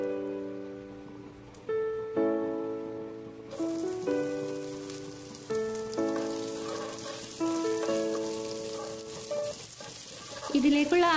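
Sliced onions hit hot oil in a claypot while biryani is being made, giving a steady hissing sizzle that starts a few seconds in and carries on under melodic background music.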